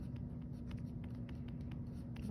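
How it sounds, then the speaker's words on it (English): A kneaded eraser lifts charcoal off drawing paper in a charcoal drawing of an eye, producing a faint, steady rubbing and light dabbing with a quiet continuous texture. "I'm gonna go back and use my kneaded eraser and take some of the charcoal off the paper"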